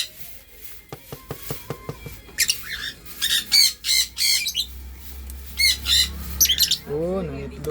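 A hen squawks loudly and repeatedly after laying an egg, with sharp cackling bursts coming in uneven clusters over faint background noise.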